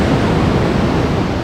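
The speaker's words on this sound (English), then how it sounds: "Still pretty wavy today, big waves, bad visibility." Big ocean waves surge at a Bali dive site in the evening at low tide, a loud, continuous roar of churning surf with a wind-like rush and no voices.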